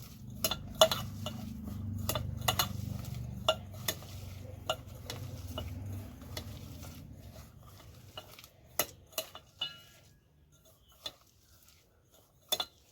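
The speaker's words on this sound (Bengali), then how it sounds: "লবণটা দিয়ে আমি পেঁয়াজটা একটু ভালো করে মাখিয়ে নেব" Chopped onions are mixed with salt by hand or spoon in a bowl, giving soft rustling and scattered clinks. Sharper taps and knocks follow, more spaced out and growing sparse toward the end.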